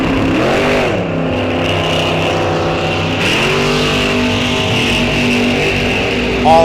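Drag race cars at Rock Falls Raceway, a Pontiac-powered 1968 Firebird and a 1955 Chevy, roaring loud and close with engine pitch sweeping upward as they rev and launch, sustained and overpowering.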